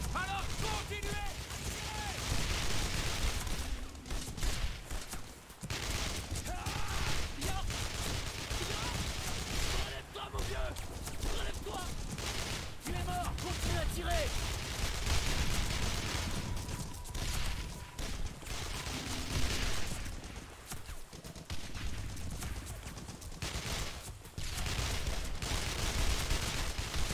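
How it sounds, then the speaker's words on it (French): Sustained gunfire in Brothers in Arms: Road to Hill 30, a dense battlefield of repeated shots and bursts running throughout, loud and continuous, with voices shouting over the shooting. "Continuez à tirer!"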